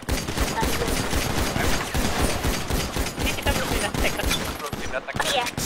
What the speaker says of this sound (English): We got active shooting.